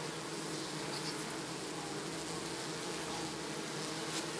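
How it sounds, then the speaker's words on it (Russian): A dense, even buzz of bees feeding on honey, recorded close up, holds steady and continuous throughout with no voices. "Смотрите, пчелы едят мед."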